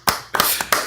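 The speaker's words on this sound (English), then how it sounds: "We gotta give Leo a clap here" Three sharp hand claps sound close up in a quick, uneven sequence, each a crisp slap with a brief tail and no other sound between them.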